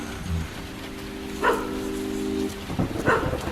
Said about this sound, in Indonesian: entah kenapa binatang peliharaanku tiba-tiba saja menggonggong